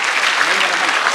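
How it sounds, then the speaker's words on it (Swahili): A crowd at a students' career fair in Kiharu, Kenya claps in a dense, steady wash of applause that holds evenly through the short moment without breaks. "Tupigie huyu mheshimiwa makofi."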